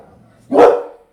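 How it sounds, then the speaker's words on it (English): Several dogs bark loudly at once in a single burst close by, with a quieter dog sound just before it. "pardon my loud ass dogs. I don't know why they're barking."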